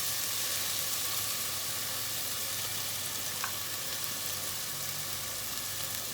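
Chopped dried and green chillies sizzle in a pot, a close, even, continuous frying hiss with a faint low rumble beneath and no voices.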